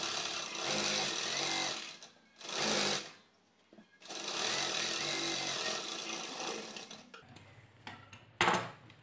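A sewing machine stitches a blouse in long steady bursts of whirring, stopping briefly between runs and then starting again, close and loud with no voices.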